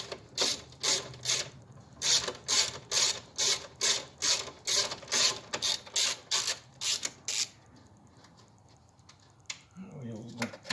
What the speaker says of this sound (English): We get the 10 socket. Go ahead and remove these.